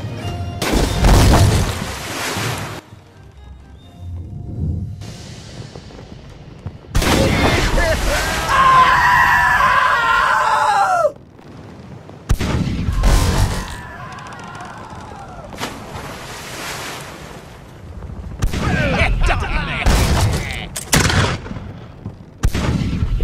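Booming cannon blasts and sharper swivel gun shots from a pirate ship in the naval game Blackwake, firing in several loud bursts with gaps between them, mixed with crew shouting and talk.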